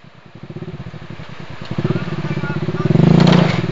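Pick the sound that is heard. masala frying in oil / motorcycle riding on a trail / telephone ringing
motorcycle riding on a trail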